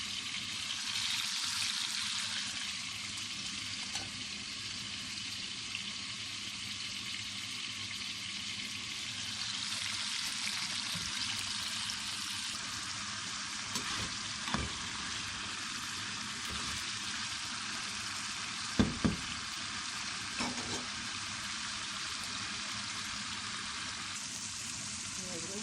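Meat frying in a pan for an Iranian-style dish gives a broad, constant hiss, with a few faint clinks and a louder knock near the end.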